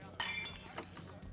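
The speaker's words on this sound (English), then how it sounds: "That's the third glass this week" A drinking glass shatters in Life is Strange: Double Exposure, a bright crash followed by a few tinkling fragments, heard close under steady background room sound and speech.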